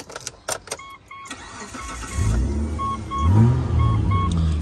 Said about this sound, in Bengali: স্টার্ট দাও মনির।